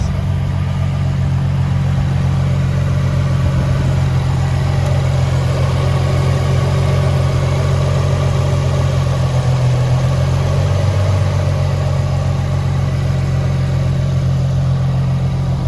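A Nissan VQ35HR V6 idles at its first start-up, a loud, close, steady low hum with a slightly uneven, rough tone that holds unbroken for the whole stretch with no talking.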